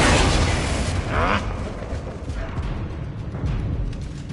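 A Confringo fire spell blasts off in Hogwarts Legacy, a loud burst at the start with booming rumble and crackle that fade and swell again amid continuous game effects.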